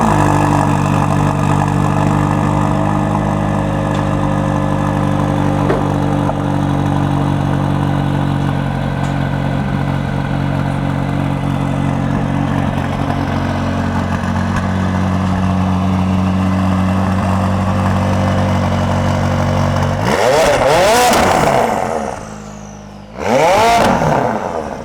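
A tuned McLaren Spider sports car engine idles loudly with a steady, droning rumble, then near the end it is sharply revved twice, each rev rising and falling in pitch, with nobody talking.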